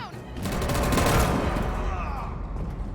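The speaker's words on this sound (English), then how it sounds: "Oh, we got shot." Gunfire in the video game Detroit: Become Human, a burst of shots filling the scene with dense, loud, noisy cracks that swell and then trail off over a sustained low rumble.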